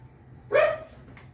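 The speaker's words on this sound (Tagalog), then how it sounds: "kasi maingay po yung aso" One short, clear dog bark rings out at a middle distance in a residential spot in Tanza, Cavite, standing alone over a faint steady background hum.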